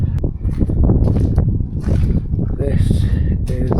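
Strong wind gusts outdoors near a cabin, roaring and buffeting the microphone throughout in a dense, rushing blast.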